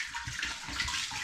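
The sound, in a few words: water poured into a pan and swilled around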